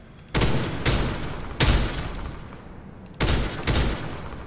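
Shots from a weapon in the shooter game First Assault, five loud sharp reports in two clusters with short decaying tails, close and crisp with quiet gaps between them.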